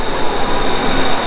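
A Bangkok Blue Line metro train pulls into the station, a steady loud rumble of rail noise with a sustained high whine, continuous and close throughout.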